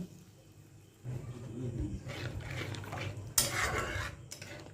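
Spoon scraping and clinking against a pan while paneer curry is stirred, quiet at first, then irregular metallic scrapes and bumps with a sharp clatter near the end.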